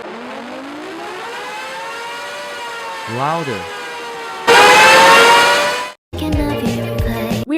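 A Super Sirex tornado siren starts up loud, with a rising wail that swells into a harsh, blaring tone, broken by abrupt cutoffs. A voice speaks briefly.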